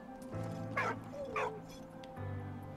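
A dog in the World War I video game Valiant Hearts gives a couple of short, whining yips and whimpers over a steady, low game-music drone.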